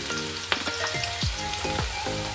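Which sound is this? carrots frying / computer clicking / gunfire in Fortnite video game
carrots frying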